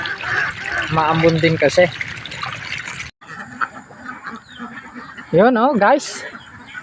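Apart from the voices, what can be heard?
ducks being fed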